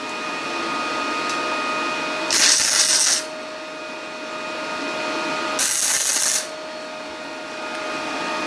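A Parkside PMSG200 welder tack welding thin sheet metal: two short bursts of harsh crackling arc noise, each about a second long, over a constant electrical hum.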